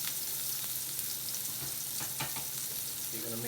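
Chopped onions fry in a paella pan over lowered heat, giving a continuous soft sizzle with occasional scraping as they are moved around, close and low in level.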